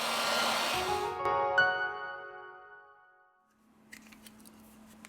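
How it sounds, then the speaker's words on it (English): A heat gun blows a steady hiss of hot air onto the back of a Samsung A31 phone to loosen its battery cover, then cuts off, followed by quiet clicks and a faint hum. "We apply heat to the device to remove the battery cover."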